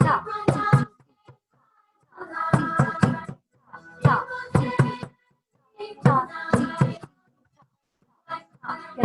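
Rhythmic hand clapping in a third-grade music lesson: groups of sharp, close claps in repeating patterned bursts separated by short pauses, loud and near.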